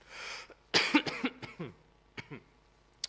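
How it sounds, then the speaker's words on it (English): A few short coughs and throat-clearing bursts close by, spaced unevenly, with a brief quiet breath between them; no clear speech. "if I talk too long, I start coughing"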